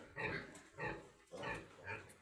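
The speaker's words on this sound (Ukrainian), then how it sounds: "Свинка стала годувати стоя наша" A pig at feeding time on a small farm, standing while it eats, grunts and oinks in four close, loud bursts at a steady, roughly even rhythm, with short pauses in between.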